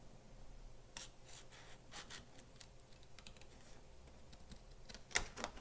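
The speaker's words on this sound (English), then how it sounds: "I'm just going to take my scissors and just snip that" A series of sharp, crisp snips of scissors cutting through cardstock, irregularly spaced and fairly quiet, with a louder cut near the end.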